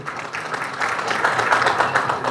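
An audience claps for the Bangladeshi brand Rimar Khallan, a dense, steady burst of applause from many hands that swells slightly and carries on throughout.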